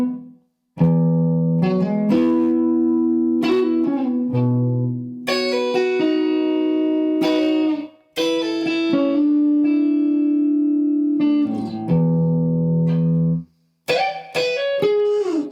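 An outro played quietly at low dynamics on electric guitar, with sustained single notes and chord phrases ringing steadily with a touch of effects and reverb and no voices.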